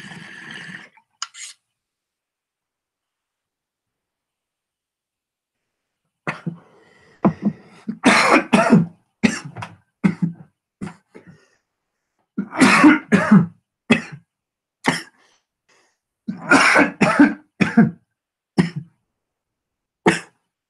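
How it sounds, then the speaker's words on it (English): Someone coughs hard after taking a hit, starting with a short sputter, then a long silence before clusters of loud, rough, close coughs arrive in irregular fits. "I'll cough up a lung."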